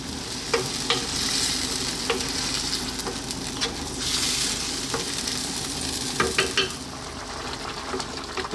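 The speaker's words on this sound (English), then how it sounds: "Give it a stir every now and then." Tomatoes sizzle and fry on high heat in a pan, a constant crackling hiss broken by scattered scraping knocks as a utensil stirs them, close and alone without talk.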